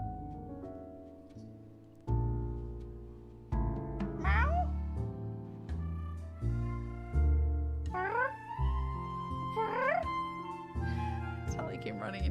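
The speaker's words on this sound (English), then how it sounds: "I heard her meowing." Cat meowing in a video game, repeated rising cries over a loud backing of sustained musical chords, fairly close and prominent.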